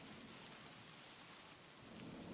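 Steady rain pours in a logging roleplay game, Riverbend Springs, as a dense, even hiss of drops with a low rumble beneath, constant throughout and free of any talk.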